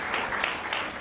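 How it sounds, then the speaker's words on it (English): A meeting audience at a county commission board session breaks into a brief burst of applause, a short, steady wash of many hands clapping at moderate loudness. "Give a big round of applause."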